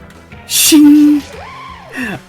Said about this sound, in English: I still love the shing sound effect